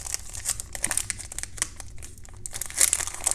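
A thick-grade baseball card pack wrapper from a 2019 Donruss Optic box is crinkled and torn open, giving close, busy crackling and ripping bursts throughout with no talking.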